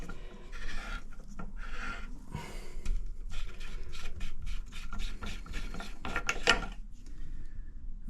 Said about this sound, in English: it grinds off and cleans the seat of the tap